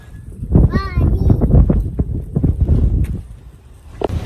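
Horse hooves clip-clop on a riding ride at the Club Hippique le Barry in Dar Bouazza, a rhythmic run of close hoof beats heard under steady talking, including a voice.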